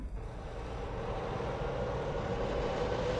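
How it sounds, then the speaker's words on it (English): Airplane engines run with a steady, droning roar that builds slightly and holds, a low continuous engine hum from inside the cabin. "they can hear the plane motors as they are each one fired in order"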